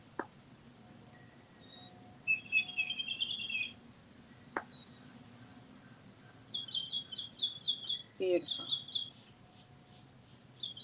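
Small birds chirp and sing in short bright bursts and trills, some repeated in quick series, against a quiet calm background with a low hum, while a soft voice speaks briefly.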